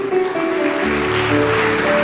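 A church congregation breaks into brisk applause, loud and close, over held musical notes that carry beneath the clapping.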